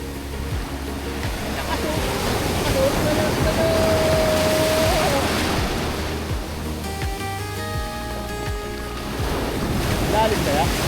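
Strong ocean surf on a trip along the Aurora coast, heard from a boat as a loud, continuous roar of crashing waves mixed with heavy wind buffeting the microphone, with a voice calling out briefly amid the rush.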